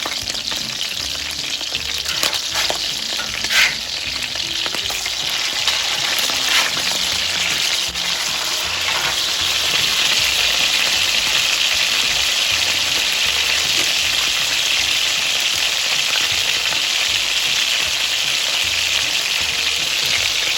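Smash burgers sizzle loudly on a hot griddle as they are flipped, a dense continuous frying hiss with a few scraping clicks of the spatula, close and steady with no talking.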